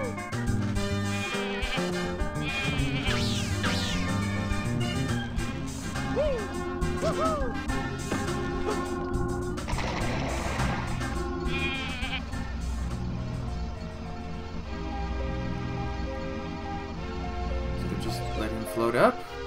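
Sheep bleating in the Nintendo 64 platformer Rocket: Robot on Wheels, a few short calls rising over busy game music and effects, with a player talking over it.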